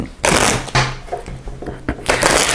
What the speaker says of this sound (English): Let me give this a quick shuffle.